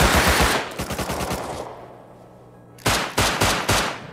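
Gunfire in the survival game Rust, rapid bursts of automatic shots close by, one burst, a short lull, then another string of shots.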